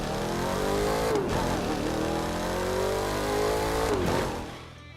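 A 2015 Mustang GT V8 in the racing game The Crew 2 revs loud and close, its engine note climbing through two gear shifts before easing off at the end, with no talk.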